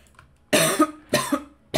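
Three short, forceful coughs burst out in quick succession, close to the microphone, with brief silences between them.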